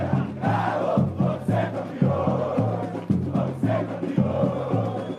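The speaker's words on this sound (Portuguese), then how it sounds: "O Galo recebeu apoio da torcida na véspera da partida na porta do CT." Atlético Mineiro supporters gathered at the training centre gate chant and cheer in rhythmic bursts the day before a match, a loud crowd roar with pulsing beats of voices close by.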